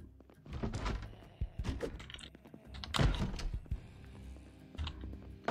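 A door closes in the Project Zomboid survival game, with creaking, mechanical clunks and a solid thunk amid several scattered knocks and shuffles.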